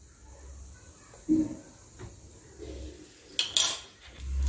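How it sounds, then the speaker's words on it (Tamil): An iron kadai clanks and scrapes a few times as it is handled while oil goes in, with quiet gaps between the close metallic knocks. "இது மாதிரி இரும்பு கடாய் எடுத்திருக்கோம். இதில் ஆயில் ஆட் பண்ணிக்கிறோம்."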